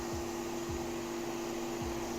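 Steady vacuum suction drone runs throughout at moderate level while cleaning drilled bowling ball holes, with a few low thumps breaking in briefly.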